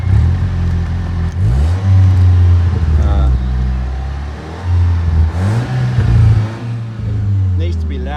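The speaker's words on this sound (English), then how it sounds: "Exhaust sounds all right." A rebuilt 2012 Volkswagen Golf GTI 2.0 TSI engine revs up and down repeatedly, the exhaust roaring and settling in waves, close and loud, with some speech mixed in.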